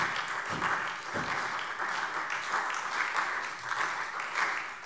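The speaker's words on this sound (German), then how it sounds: "Applaus" Broad, steady applause fills a state parliament (Landtag) chamber, many hands clapping together at an even volume for about five seconds without a break.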